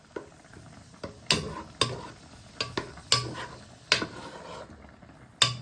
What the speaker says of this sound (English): Then you add in your onion and garlic. But you just want to stir them so they don't burn.